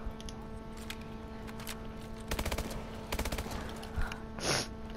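Two quick bursts of automatic gunfire in Exo Zombies, fast rattling volleys heard mid-distance over a steady electronic hum, followed by a brief swoosh and no talk.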